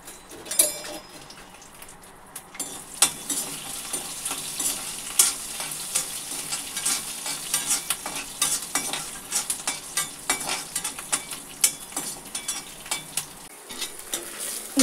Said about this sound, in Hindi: इस तरीके से तल लेना है अपने को।